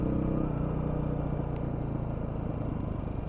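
Kawasaki KLX 300 dual sport motorcycle riding on dirt roads, its engine droning steadily at a moderate distance with a slightly rough, even hum.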